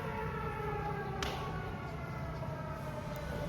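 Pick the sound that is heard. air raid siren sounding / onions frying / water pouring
air raid siren sounding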